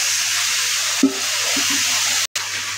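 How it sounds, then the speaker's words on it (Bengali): A spice masala with turmeric fries in oil in a pan, giving a loud, steady sizzle. A few stirring scrapes and knocks are heard, and the sound cuts out briefly near the end. "মশলাটার উপরে তেল ওঠা পর্যন্ত এটাকে কষাবো"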